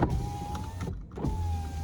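Electric windows on a used car being checked by a dealer whir steadily, pause briefly as one stops, then hum again, with a close, continuous motor drone and no voices.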